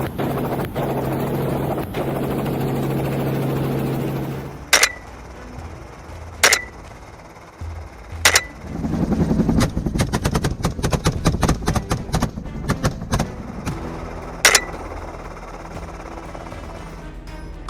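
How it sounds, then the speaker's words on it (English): A helicopter flies low over open country during aerial wild boar hunting. A loud rotor drone gives way to sharp repeated gunshot cracks, some in rapid bursts, over a lingering engine hum. "Hunting from a helicopter has the obvious advantage of the loud noise generated by the rotor blades"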